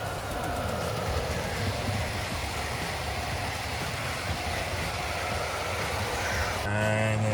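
A Hornby Intercity 125 HST model train runs along a layout with a steady, continuous rolling rumble and whirr of wheels on track, fairly close and even in level throughout.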